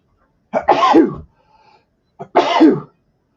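Two sharp sneezes, close and loud, about two seconds apart, each with a quick intake before the burst.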